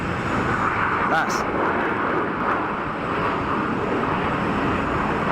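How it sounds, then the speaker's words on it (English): An Airbus A220 landing on full thrust reversers gives off a heavy, sustained roar of reverse thrust, loud and even throughout, with a brief spoken word near the start. "How much reverser do you want? Because you just got it all."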